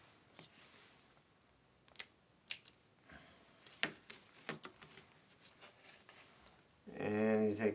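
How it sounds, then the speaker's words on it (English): Protective backing peeled off double-faced tape on a plexiglass sneeze guard during installation, a few sharp tearing rips and crackles amid quiet handling noises, with a person speaking at the end. "So you pull off the tape like so."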